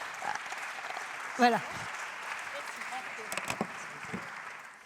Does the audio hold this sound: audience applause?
yes